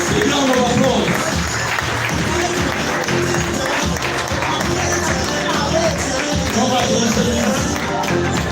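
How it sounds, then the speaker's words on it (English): Applause for an award recipient at a Saturday recognition event in Zambia fills the room with steady clapping. Voices and crowd chatter mix in underneath, and the sound holds at an even level the whole time. "Let's give her a big round of applause."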